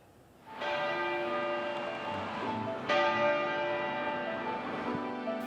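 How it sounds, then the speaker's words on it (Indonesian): A large church bell at Westminster Abbey in London tolls twice, each deep ringing strike followed by a long, humming decay. "Gereja Westminster Abbey di London, Inggris membunyikan lonceng sebanyak 99 kali"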